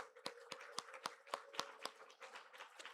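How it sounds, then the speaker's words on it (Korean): A church congregation claps in a steady, rhythmic beat of about a dozen sharp claps, quiet and somewhat distant, with no voices heard. "우리 박수로 또 환호하면서 격려하겠습니다."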